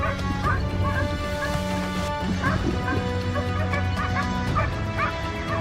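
A pack of hunting dogs on the trail of wild boar barks excitedly, overlapping yelps and higher whining barks from several animals at once, close and continuous with brief crashing noises among them.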